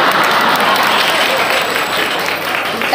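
A crowd at a political rally applauds in a steady, dense roar of clapping. It is loud and continuous throughout, with faint crowd voices mixed in.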